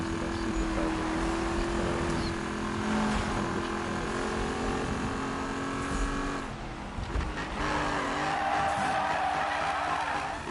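A supercharged Dodge Challenger in a video game accelerates and drifts, its engine whining loudly with constant tire screech. The tone shifts and dips midway, then the engine picks back up with a rising whine.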